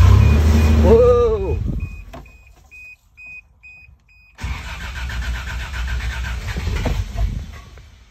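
A Toyota FJ62 Land Cruiser engine cranks loudly and steadily for several seconds as it tries to start, after a repeating electronic warning chime sounds over a quiet cabin.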